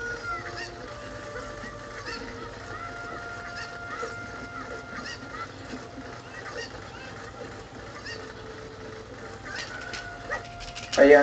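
Chickens clucking in the video game The Legend of Zelda: Ocarina of Time, scattered short squawks and cackles over a steady game background, with a louder burst at the very end.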